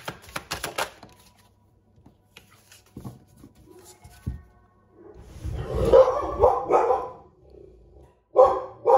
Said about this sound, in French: je suis désolée pour mes chiens